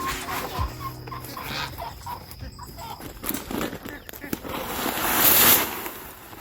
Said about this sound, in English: Show them the new rooster we got.